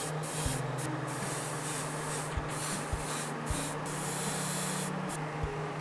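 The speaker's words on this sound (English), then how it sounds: "I sprayed the stone with either red or blue airbrush paint to give it a little bit of color" Airbrush spraying red or blue paint onto 3D-printed fantasy terrain stone, a continuous soft hiss with a low steady compressor hum beneath it and a few faint clicks, close and alone.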